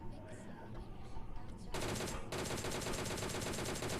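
Automatic gunfire in a PUBG solo match, with a DP gun attacking an enemy on a hillside. Low rumbling game audio gives way to a loud, dense, continuous burst of shots that runs to the end.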